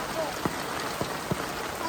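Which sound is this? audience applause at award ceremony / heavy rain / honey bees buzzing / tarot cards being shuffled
heavy rain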